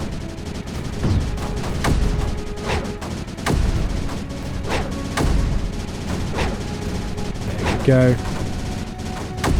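Mortars and cannons fire in the tower-defence strategy game Creeper World 4, sounding as repeated sharp booms and bursts that hit steadily across the stretch. A rapid rattling volley comes near the end, and a brief spoken word rises over the barrage.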